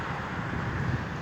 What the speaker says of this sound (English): Look how windy it's getting.